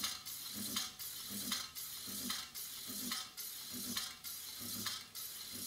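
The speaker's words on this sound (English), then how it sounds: "I'm hearing a little bit of rubbing." Upgraded floating brake rotors on a Sur-Ron electric dirt bike rub as the wheel spins, giving a rhythmic scraping pulse that repeats roughly every 0.85 seconds over a steady whir, close and fairly loud.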